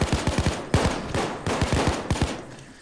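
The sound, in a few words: semi-auto sniper rifle shots in video game Payday 2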